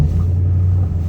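A steady, low engine rumble hums close by with a constant deep drone, idling without revving, and no voices.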